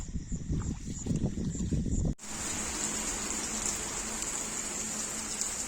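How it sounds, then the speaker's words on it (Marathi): Rain falling outdoors during a crab-catching outing, a steady broadband hiss that continues throughout, with a brief burst of rougher, louder low activity near the start before a sudden cut. "पाऊस पण चालू झालेला आहे"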